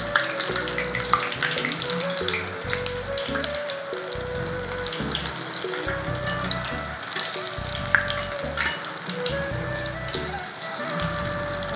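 Green peas and potato evening snack frying in a pan, a steady oily sizzle running throughout beneath prominent background music, close and fairly loud.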